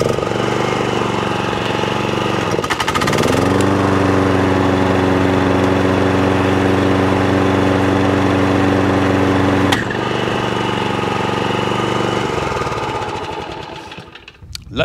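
A petrol lawn mower engine runs loud and steady at close range with a rough, droning tone, briefly surging and settling before it slows and cuts out at the end.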